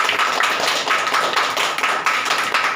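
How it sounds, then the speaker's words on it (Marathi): Audience applause at a widows' lifetime pension distribution event in Maharashtra, dense and steady clapping from many hands throughout, loud and close with no talk. "तरी सर्वांनी टाळ्या वाजवा आनंद घेतोय"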